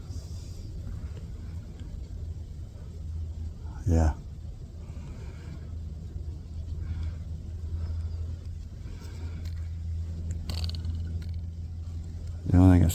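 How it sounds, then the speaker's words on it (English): Steady distant highway traffic rumbles beneath a wooded trail beside the Mississippi River, a continuous low drone with occasional nearer swells, while people talk briefly and footsteps crunch nearby. "guess sucks is hearing all the traffic in the background. We're still pretty close to the highway."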